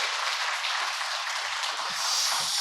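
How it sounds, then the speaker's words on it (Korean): A church congregation gives a round of applause during a Sunday worship service, a dense, continuous hiss of many clapping hands heard steadily from start to finish. "하나님께 영광의 박수 돌려드리겠습니다."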